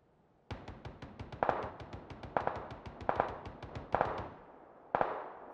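Gunfire in PUBG, rapid bursts of sharp shots in quick repeated volleys with short pauses between, fairly close and loud, no talk.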